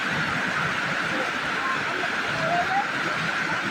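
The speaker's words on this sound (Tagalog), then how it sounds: "Ang lakas ng agos." Strong floodwater current rushing during Typhoon Opong in San Andres, Romblon, heard as a steady broad roar of flowing water with faint voices in the background.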